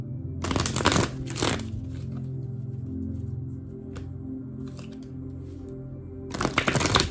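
Tarot cards are shuffled in brisk riffling bursts at the start and end, close up, with a low steady hum and occasional small taps in between.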